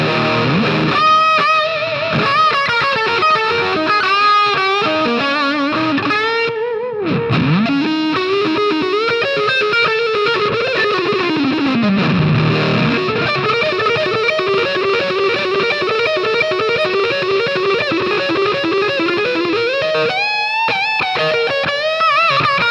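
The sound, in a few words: electric guitar through Chandler Limited Little Devil pedal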